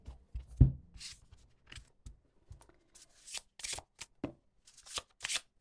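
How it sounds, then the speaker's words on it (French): Oracle cards being shuffled by hand: a series of soft, irregular riffling and sliding bursts with small taps, close and fairly quiet, no talk. "on va mélanger un petit peu."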